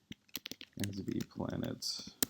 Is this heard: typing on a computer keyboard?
yes